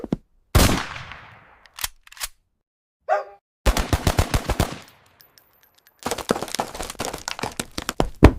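Machine gun fire in an animated battle between a tiny army and a giant cat comes as loud, rapid rattling bursts between sharp single bangs and short silences.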